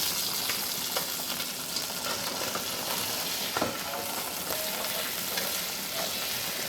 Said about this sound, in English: Now it's time to flip our fish.